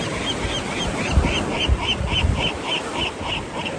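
Ducks or geese quacking and honking in a repeated series of short calls at a steady rhythm, moderately close, over a continuous noisy outdoor background.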